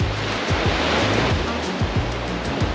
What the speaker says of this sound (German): Naja, die Wellen kommen einem selber näher.